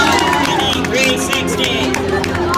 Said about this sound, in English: Let's give a big round of applause for King Kong